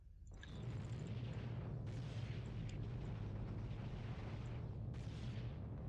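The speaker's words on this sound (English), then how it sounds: "Zoom in over here so you guys can see a good bombardment." Spaceship bombardment in the video game Eve Online: a loud, sustained rumbling roar of explosions that starts abruptly and keeps going, with bursts and crackles layered on top and no talking.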